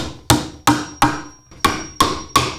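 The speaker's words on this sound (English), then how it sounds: "So now I'm going to go ahead and nail these together" Six sharp, evenly spaced hammer blows drive nails into a glued wooden stool frame, each strike ringing briefly before the next, close and loud with no talking.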